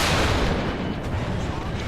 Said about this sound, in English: And a friendly bomb there.